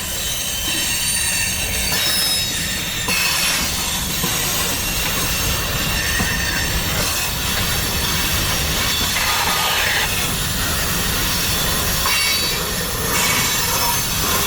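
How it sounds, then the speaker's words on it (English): Loud freight train cars roll past at close range near the Winston Wye in Lakeland, Florida. A continuous heavy rumble is layered with high, piercing wheel squeals that last the whole stretch, and no voices are heard. "And some of these trains, these cars are loud."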